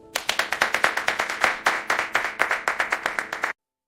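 A small group of staff claps after a speech, a brisk run of sharp hand claps with a few overlapping that stops abruptly into silence.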